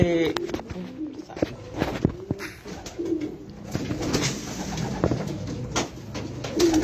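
Racing pigeons at a loft after a race coo repeatedly at close range, soft throaty calls recurring under a steady background of rustling and movement.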